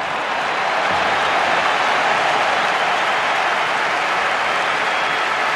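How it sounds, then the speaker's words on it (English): Steady, dense roar of a large stadium crowd applauding during a Barcelona versus Real Madrid football match in 2009, a continuous broad wash of sound with no pauses. "Applause coming down from the stands for the magnificent nose and the magnificent talent that is Zlatan."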